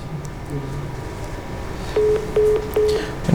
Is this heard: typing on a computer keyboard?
no